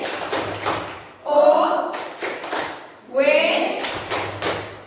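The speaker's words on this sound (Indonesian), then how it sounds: "Sekarang coba tepuk wow dulu. Tepuk W-O-W." A classroom of students claps out the rhythmic 'tepuk wow' chant in two loud bursts of clustered claps and chanting voices, with a teacher's voice speaking in between.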